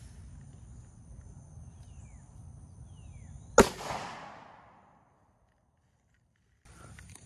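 A single sharp gunshot from a Glock 43 pistol with a 3.39-inch barrel firing 9mm +P Winchester USA Ready 124-grain hollow points cracks loudly and close, trailing off in a brief outdoor echo before near silence.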